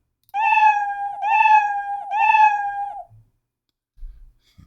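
A person imitates a cat, giving three drawn-out meows in a row, close and clear, followed by a brief soft thump.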